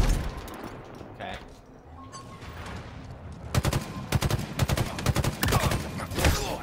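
Rifle fire in the video game Halo during an Infection match: quiet game ambience, then from midway a run of rapid, sharp repeated shots in bursts, loud and close.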